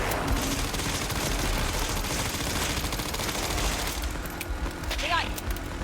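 Rapid, dense gunfire rattles continuously in a video game shooter, a steady barrage of shots and bursts close up, easing slightly near the end.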